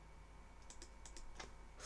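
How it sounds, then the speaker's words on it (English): Computer keyboard keys tapped in a quick short burst of a few crisp clicks, close but faint, over a quiet background hiss. "I'm just going to type in 455."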